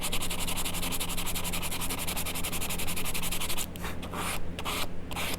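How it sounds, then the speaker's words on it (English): Fine sandpaper rubs steadily over the wood of a small picnic table model, a continuous close scratchy rasp that breaks into short strokes near the end. "And I can take my finer sandpaper"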